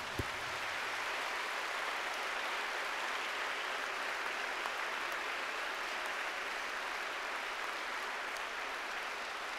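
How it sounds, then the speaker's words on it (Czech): An audience at a children's concert keeps up a long, even roar of applause. It sounds fairly faint and distant, like a steady hiss of many hands, with no talking. "Velký potlesk!"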